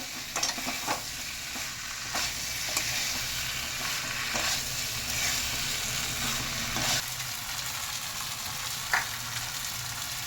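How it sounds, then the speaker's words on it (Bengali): Pre-fried mixed vegetables stirred in a pan for a paneer dish, a quiet, continuous sizzle with occasional soft spatula scrapes and taps spread across the stretch. "ওই সবজিগুলো আমি দিয়ে দিলাম, দিয়ে ভালো করে একটু নাড়িয়ে নেব"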